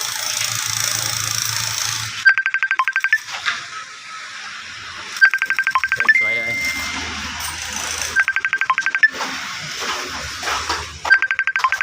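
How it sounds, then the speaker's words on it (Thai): A phone rings with an incoming call, repeated bursts of a warbling electronic ring recurring every couple of seconds, moderately loud, with someone talking between and over the rings. "มีมีสายเข้ามาครับ ยังไม่รับครับ"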